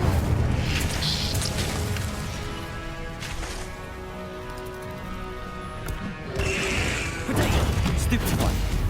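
An Incendio fire spell cast in the Hogwarts Legacy video game bursts out with booming, crackling whooshes, one at the start and another near the end, over sustained background music.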